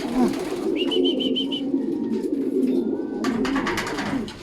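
Racing pigeons arrive at the loft after a training toss, with soft wing flaps and bird sounds over a steady low background hum; a short series of tonal pulses is heard near the start.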